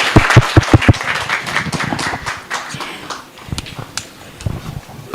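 Audience at a Wareng Power House 8th anniversary gathering breaking into a short burst of sharp, rhythmic claps, then scattered, looser clapping and crowd noise that thins out.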